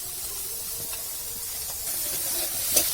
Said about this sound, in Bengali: ওদের কাঁকড়াগুলো ভাজা হয়ে গেছে, নামিয়ে নেব।